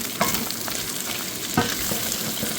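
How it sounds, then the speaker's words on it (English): Vegetables get stirred into the fond and rendered fat in a pan, with an even frying sizzle and a few clear spoon scrapes and knocks, heard close without talk. "So now I'm going to be adding my vegetables to this, and I'm just going to stir it up here."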